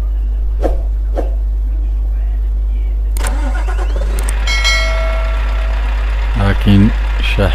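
A truck engine cranks and catches in the Euro Truck Simulator driving game, then settles into a steady idle that runs to the end, with a low constant hum beneath and a voice talking briefly near the end.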